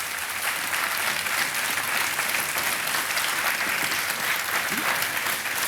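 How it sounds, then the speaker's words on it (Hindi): Studio audience of a TV quiz show applauding contestant Manish after a correct answer, a sustained, even roar of many hands clapping at full, close volume. "और तालियां बज जाए इनके लिए"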